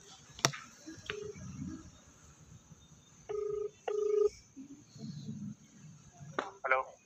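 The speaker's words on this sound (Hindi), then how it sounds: "सुज्जू बॉय के घर पे, और अभी देखते हैं उसको फ़ोन कर दे।" A phone call is placed on speakerphone: a sharp click, then two clear electronic dialing tones and a few more beeps, close and loud, with people talking in between.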